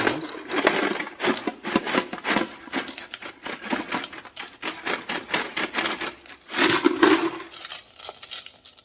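Green adventure rocks clatter and rattle as they tumble into a 12 lb rock tumbler barrel, a dense, continuous run of hard clicks and knocks for several seconds with brief gaps and a final burst.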